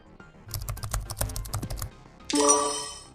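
Fast keyboard typing during a hack of a security system in an animated detective cartoon: a quick burst of crisp keystrokes, then a short, bright electronic chime.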